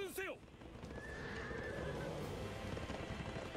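A horse neighs in the video game Berserk and the Band of the Hawk, one clear whinny at the start followed by a steady background of game noise and faint hoof clatter.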